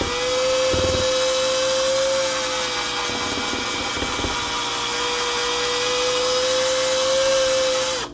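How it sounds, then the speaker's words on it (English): An electric hand mixer churns a dry biscuit dough, its motor giving a steady high whine with a few thumping knocks as the beaters catch the stiff dough, loud and continuous before it cuts off. "we'll have to probably switch off from this mixer over to a spoon or a fork here in a minute"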